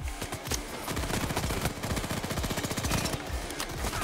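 Rapid sustained gunfire from a new automatic gun, a dense loud stream of fast, evenly spaced shots continuing without break throughout.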